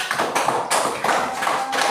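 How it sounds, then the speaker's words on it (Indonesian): Students in a classroom clap together for a presenting group during an Islamic religious education lesson, a brief, dense burst of hand clapping that rises and falls in short waves, close and fairly loud. "Tepuk tangan."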